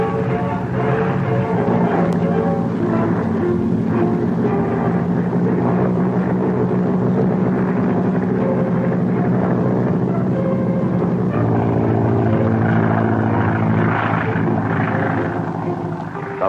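A 1943-era Boeing B-17 Flying Fortress four-engine bomber taking off from an airfield, a loud continuous droning engine roar with a steady layered hum that shifts slightly in pitch midway, heard alone without voices.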